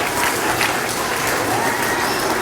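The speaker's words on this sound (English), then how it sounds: "let's give a round of applause for all of our staff." An audience at a first grade gratitude ceremony in a school applauds for the staff, a dense continuous wash of clapping that stays loud and even, with a few faint voices in the crowd.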